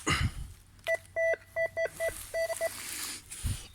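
A metal detector sweeping a plowed field gives a coin signal, a series of about eight short, clean electronic beeps in an uneven rhythm, with rustling handling noise before and after.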